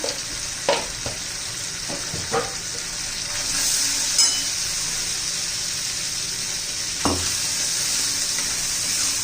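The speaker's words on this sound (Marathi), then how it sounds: "चांगला मसाला परतून घेऊया आपण" Oil sizzles steadily with masala frying in a pan for black chana masala, broken by occasional scraping stirs from a spoon.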